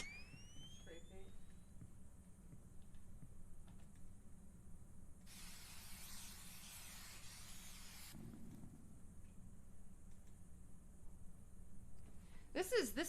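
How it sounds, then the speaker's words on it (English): In a horror video game, a can of spray paint lets out a single hissing burst lasting a few seconds, set against a quiet, faintly humming game background with a few chirpy tones. "Spray paint."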